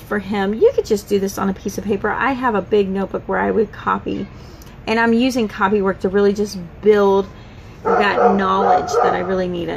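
A dog nearby in a tiny house yips, barks and whimpers on and off, mixed in under steady talking that runs through the whole stretch.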